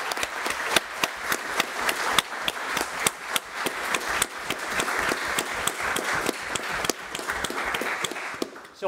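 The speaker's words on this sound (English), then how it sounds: "We are delighted that BSBI, who are here, round of applause for" An audience at a botany quiz final gives a round of applause, a close, lively burst of individual claps that come through sharply and sustain for several seconds.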